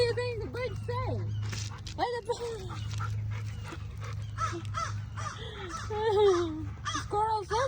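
Crows caw agitatedly near a golden retriever chasing squirrels up trees, a run of loud harsh calls while the dog pants and whimpers, over a low steady hum.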